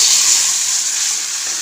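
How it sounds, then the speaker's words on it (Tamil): A small splash of water poured into a hot pan of ghee-sautéed dates, a brief loud rushing hiss that holds steady and eases slightly, close by, with no talking. "கொஞ்சம் லைட்டாக தண்ணி ஊற்றினா போதும்."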